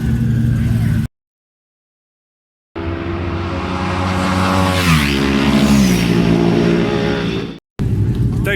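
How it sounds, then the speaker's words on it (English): A new Aprilia 660 twin motorcycle pulls in at the TT, its engine loud and close, pitch climbing then dropping, between short gaps of silence. "just pulled in on the second lap on the new 660 Aprilia twin"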